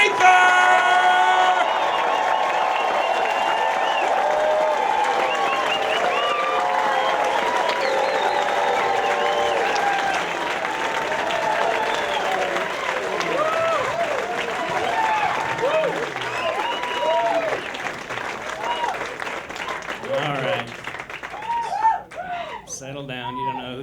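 A Las Vegas stand-up comedy crowd applauds, cheers and whoops loudly to welcome a comedian to the stage, a dense sustained roar that thins toward the end as a voice starts speaking.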